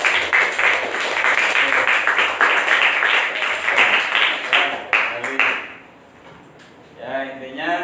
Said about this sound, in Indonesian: Dan tepuk tangan untuk kelompok